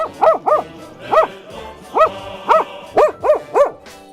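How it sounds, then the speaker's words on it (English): Guard dog at a military base barking loudly and close in a rapid series of about ten sharp barks, some coming in pairs and spaced by short gaps, with no clear growl between them. "Collie behaves like a true guard dog, growls, bares his teeth"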